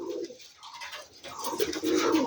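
Rajshahi Giribaz pigeons coo softly in a couple of low, throaty bursts, close by with no talking.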